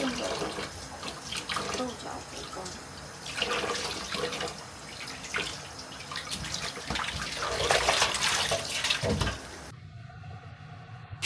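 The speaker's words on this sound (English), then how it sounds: "Now, onto rinsing the stir-fry veggies with 3 dishes and soup on the horizon." Stir-fry vegetables being rinsed under running water, a steady broadband splash and trickle from a tap with occasional louder gushes, close by and continuous before cutting off near the end.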